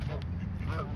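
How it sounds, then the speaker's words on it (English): Geese honking up close at a park in Colorado while being fed, a dense cluster of nasal honks layered over steady outdoor background noise. "It's all honking at you."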